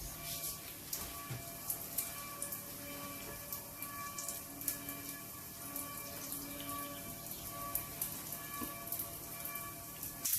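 Breaded pork schnitzel frying in hot oil in a pan, a soft continuous sizzle and crackle with scattered small pops, fairly quiet and close, no voices.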